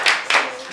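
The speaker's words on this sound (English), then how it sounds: "Please clap for him." Brief clapping for a student in a classroom, two quick bursts of hand claps close by, fading after under a second.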